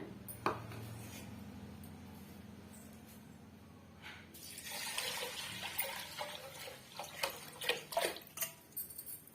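Water poured from a measuring cup into a pressure cooker holding rice for sweet Pongal, a soft steady trickle growing into louder splashing and sloshing in the second half, with no talking.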